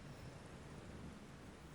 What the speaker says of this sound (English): Rain slicked the road like oil on glass.